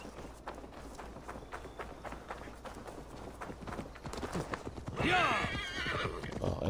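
Rapid hoofbeats clatter in a steady galloping rhythm in Assassin's Creed Valhalla, then a loud horse whinny rises over them near the end.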